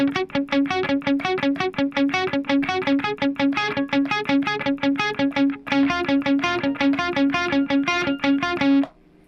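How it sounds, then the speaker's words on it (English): A distorted lead electric guitar plays a fast, rhythmic picked part from a song, loud and continuous with a short break midway before stopping abruptly. "the lead guitar is playing this part over top"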